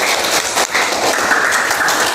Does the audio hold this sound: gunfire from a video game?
no